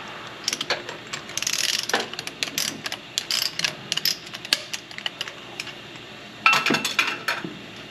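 Close metallic clinks and scrapes as a wrench tightens a nut securing a knife on a production-line machine, irregular taps and ticks in a workshop.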